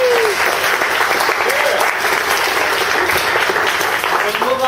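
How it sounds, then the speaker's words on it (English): Audience clapping fills the room after a tech startup conference talk, a dense steady wash of many hands that holds at full strength throughout, with faint voices mixed in. "You can clap if you want."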